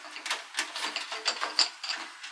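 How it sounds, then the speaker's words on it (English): Quick, light clicking of a ratchet screwdriver with a bit holder, a steady run of small pawl ticks close up and fairly quiet, with no voices. "it has a ratchet screwdriver as well"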